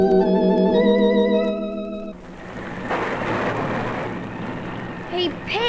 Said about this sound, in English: Hey, Pat, it's raining.